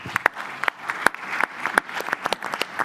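Audience at a conference panel on African AI success stories breaks into applause, a dense patter of many hands clapping with sharp individual claps standing out, steady and fairly close for a few seconds.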